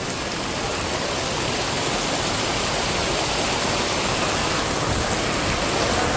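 A downpour of heavy rain roars on in an unbroken, even wash of noise, close and loud for the entire stretch, with no voices over it.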